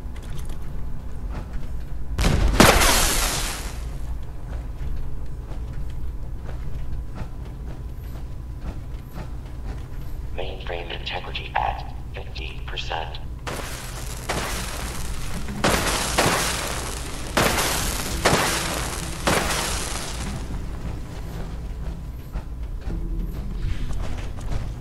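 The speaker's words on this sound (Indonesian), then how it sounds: "Kita granat, jadi apa yang terjadi?" Grenade blasts in Fallout 76, a heavy boom early on followed by a cluster of loud bursts and crashing debris later, set against steady game ambience with no talking.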